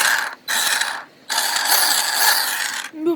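An Arrma Big Rock Crew Cab RC truck drivetrain makes a harsh, buzzy mechanical grinding in three bursts separated by short gaps, close and fairly loud, with no talking.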